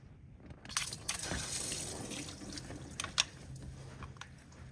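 Hot engine coolant leaks from a Chevy engine at the coolant temperature sensor, heard as a quiet continuous watery trickle with a few faint drips.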